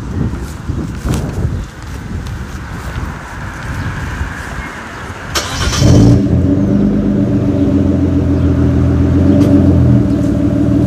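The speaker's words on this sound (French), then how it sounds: "tu nous la démarres avant le départ, qu'on écoute le son à l'arrêt" Footsteps and rustling, then a V8 sports car engine cranks and catches with a loud burst before settling into a deep, steady idle rumble.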